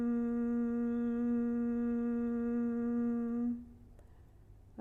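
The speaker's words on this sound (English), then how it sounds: "our exhale, we're going to make a humming sound" A steady voiced hum on a single low pitch, rich in overtones, held for about three and a half seconds as a humming exhale during a calming yoga breathing exercise, then fading into quiet breath.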